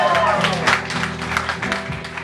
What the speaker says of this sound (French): On applaudit Fata Picard